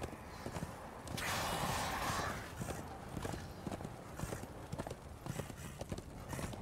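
Rhythmic hoofbeats of a horse galloping in the video game Darksiders 2, a steady clip-clop pattern running throughout with a brief burst of noise early on.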